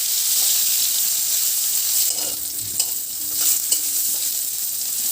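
Salted bitter gourd slices fry in oil in a pan, a constant bright close sizzle and hiss with a few soft stirring knocks partway through.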